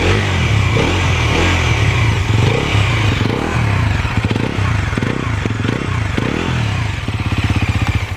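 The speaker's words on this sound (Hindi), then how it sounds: "एक बार एग्जॉस्ट नोट सुनाता हूँ कि किस तरीके से इसके अंदर एग्जॉस्ट नोट मिलता है।" A Bajaj Pulsar NS400Z with an underbelly exhaust idles and revs close by, its deep, throbbing note rising and falling in repeated throttle blips.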